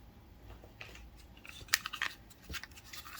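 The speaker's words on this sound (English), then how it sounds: "And then cut out your third." Scissors snipping through crochet yarn or fabric to cut out a pumpkin bag piece, a few quiet crisp snips and rustles at close range with no talking.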